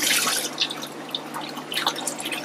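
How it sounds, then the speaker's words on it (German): Water drains out of an aquarium through a hose into a basement setup, heard as close trickling and irregular splashy drips over a faint steady hum, with no talk. "schon läuft hier das Wasser"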